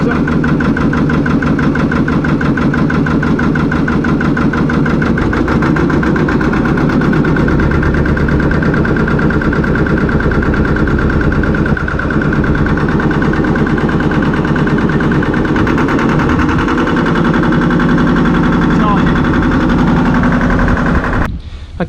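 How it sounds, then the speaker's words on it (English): A narrowboat diesel engine runs loud and close, holding a steady throbbing idle with revs raised for battery charging and a rhythmic knock throughout. "So let's put a few revs"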